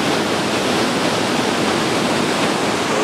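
Water rushes and churns steadily through eroded limestone potholes in a river gorge, a loud, unbroken roar without pause.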